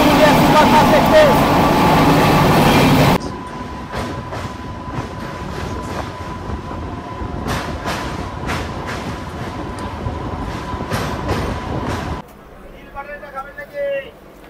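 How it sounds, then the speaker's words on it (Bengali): From inside a local train, the Howrah Purulia Superfast Express overtakes with a loud rushing roar for a few seconds, then fades into rhythmic wheel clatter and rail noise, and ends in near quiet. "আমাদেরকে এখন ওভারটেক করছে হাওড়া পুরুলিয়া সুপারফাস্ট এক্সপ্রেস।"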